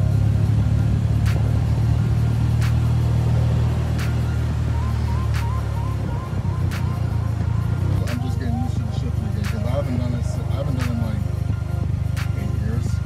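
A Polaris Slingshot's engine runs while the vehicle is driven, making a loud, continuous low rumble that rises and falls as it revs and shifts gears.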